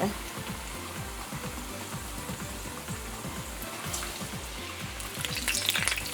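Chicken pieces for Trini-style Cantonese chicken sizzle and crackle steadily in hot oil in a pan, with spatula scrapes and clinks as they are turned; the frying grows louder and brighter toward the end, with no talking.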